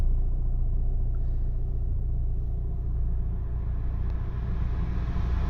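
A VW Group car engine with a P0322 fault, now starting reliably, idles steadily with a constant low rumble, close and unbroken, with no voices.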